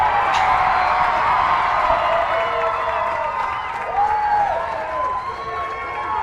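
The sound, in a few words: crowd chanting at a race track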